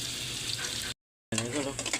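Pork hits a hot pan and sizzles loudly, a dense crackling hiss that breaks off briefly and then resumes with stirring clatter.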